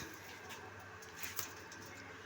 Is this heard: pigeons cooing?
yes